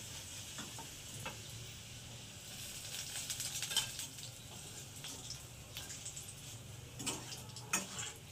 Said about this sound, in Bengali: তো এটাকে আমি উল্টে পাল্টে এইভাবে ভাজতে থাকবো।